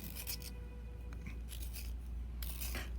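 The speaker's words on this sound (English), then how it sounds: "I'm going to go ahead and sharpen that up a little bit. Use my sharpener. Little hand sharpener there." A purple colored pencil being twisted in a small hand sharpener, giving short scraping, rasping bursts that stop and start, close and fairly quiet over a low background hum and faint music.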